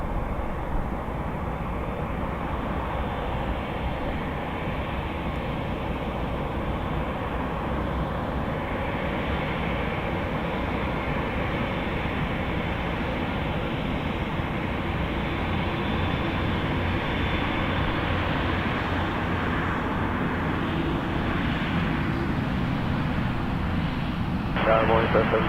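A Lufthansa Boeing 787-9 lines up for takeoff at Toronto Pearson, its engines making a steady, broad, continuous rumble throughout, with radio voices talking over it.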